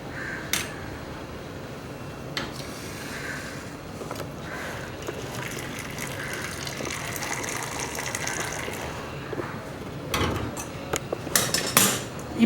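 Boiled milk poured into South Indian filter coffee decoction and frothing, a steady close gush of liquid with occasional metallic clinks of the vessels, ending in a few louder knocks.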